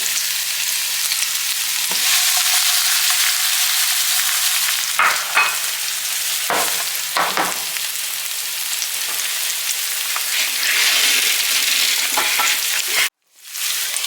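Onion frying in a pot for prawn biryani, a steady broadband sizzle that stays loud and continuous with brief stirring scrapes, ending in a short clatter as a lid goes on.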